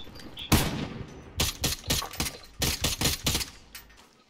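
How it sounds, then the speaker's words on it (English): Gunfire in Warzone on Rebirth Island: a string of sharp, loud shots in a rapid burst with short pauses, the first crack standing alone before a tighter volley, with no talk. "Oh, someone's shooting me."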